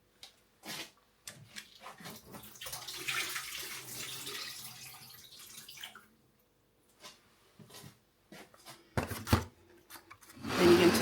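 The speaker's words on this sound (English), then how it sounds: "there's quite a lot of liquid here, so I'll just drain this off into the sink first of all" Tofu packing liquid is drained into a kitchen sink: a few seconds of splashing, trickling water, bracketed by light knocks and handling of the container, with a louder clatter toward the end and no talking.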